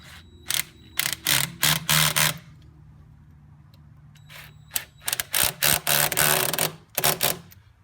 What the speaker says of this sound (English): we're going to go ahead and snug up these set screws